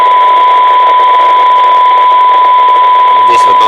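Received digital signal on a Retevis RT81 professional radio: a loud, steady tone with broadband hiss held throughout, then a brief burst of noise near the end.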